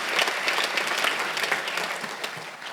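A congregation claps continuously during a Sunday church worship service, a dense, steady round of applause from many hands.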